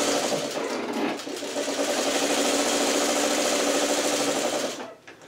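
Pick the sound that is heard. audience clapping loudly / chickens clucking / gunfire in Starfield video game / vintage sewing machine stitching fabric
vintage sewing machine stitching fabric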